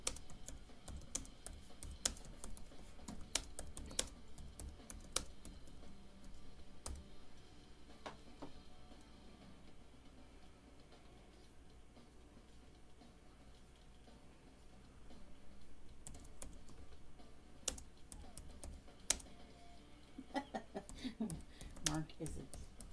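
Heavy-handed typing on a computer keyboard, sharp uneven clicks and clacks scattered through the passage, fairly close, with quieter stretches in the middle and a denser burst of keystrokes near the end, under faint room noise.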